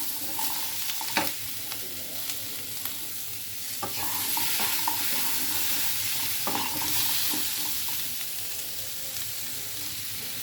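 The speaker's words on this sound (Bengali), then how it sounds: "এবার আলুগুলো ভালো করে ভেজে নিতে হবে।" Potatoes seasoned with salt and turmeric fry in a pan with a steady close sizzle, broken by occasional scrapes and clacks as a spatula stirs them.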